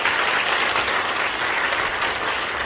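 A church congregation applauds steadily and densely throughout a thanksgiving service for a 45th-anniversary ordination, the clapping close, loud and unbroken from start to finish.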